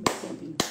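Two sharp hand claps about half a second apart, with a brief murmured voice in the quiet gap between them.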